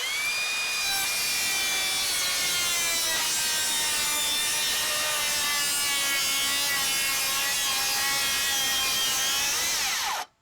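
Circular saw, a Makita 36v LXT or new Ridgid Octane, ripping through treated 4x4 lumber: a loud, sustained high whine with the pitch sagging slightly under load, then cutting off sharply near the end.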